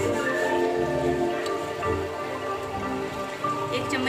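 Whole coriander seeds frying in a spoonful of hot ghee, a dense continuous crackling sizzle heard up close with a faint voice underneath.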